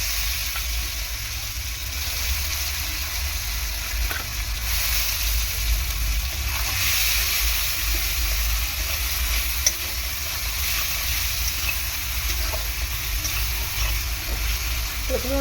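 Chopped tomatoes go into frying masala for a potato curry, producing a steady, hissing sizzle with stirring scrapes and a few light clinks throughout.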